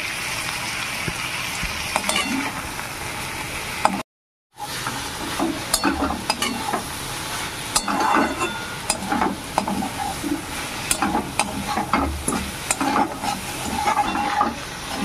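Prawns stirred and fried in a pan, with a steady sizzle and repeated scraping strokes of a spatula running throughout and a brief silent gap near the start.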